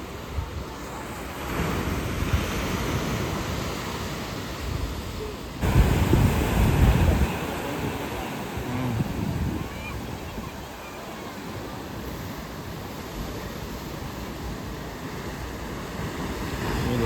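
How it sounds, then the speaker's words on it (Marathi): Big sea waves surge onto Kasheli beach on the Konkan coast at high tide, a steady roaring wash with wind buffeting the microphone and one louder crash breaking in partway through. "लाट आली मस्त एकदम मोठी."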